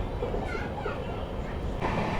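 Brand new Amrit Bharat Express train gathering speed on a curve near a bridge, a steady rumbling rail roar with faint rhythmic rattle, heard from aboard under a voice.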